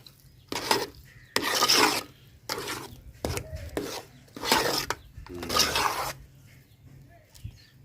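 A spoon stirs cashews and raisins into thick kesari bath in a cooking pot, giving several bursts of scraping and rasping strokes with short pauses between them, close and fairly quiet.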